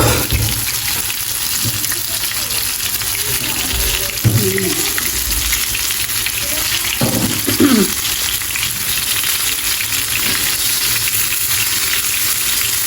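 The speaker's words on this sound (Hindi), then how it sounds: "हमने इसको जलाना नहीं है, बस इसको इतना फ्राई करना है" Chicken tikka coated in masala and besan fries in a pan with a continuous close sizzle, broken by a few louder scraping turns around the middle.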